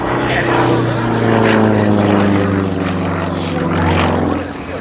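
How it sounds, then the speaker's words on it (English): A Sukhoi SU-31 aerobatic propeller plane drones loudly overhead at the MCAS Cherry Point air show, its engine pitch shifting as it maneuvers, while an announcer talks over it. "flying these fairly rare Sukhoi series of aircraft"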